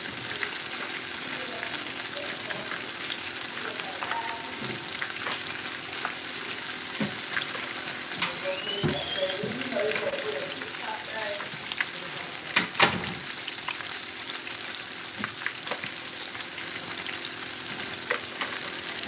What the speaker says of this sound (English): don't touch your shrimp neither when you drop them down in the grease